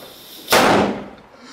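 A firecracker thrown into a hedge goes off with a single sharp, loud bang, followed by a short crackling tail that dies away within a second.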